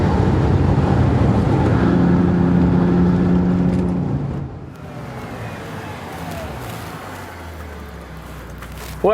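A 620-horsepower, 5,000-pound Bentley Continental Supersports lapping the Nurburgring, its engine a loud sustained roar that drops back to a lower steady drone midway, with a brief sharp burst at the end.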